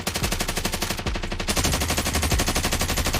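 A Jak-12 automatic shotgun fires in rapid, continuous bursts in Call of Duty Warzone, loud, dense and rhythmic booming shots with a brief lull before the fire intensifies again.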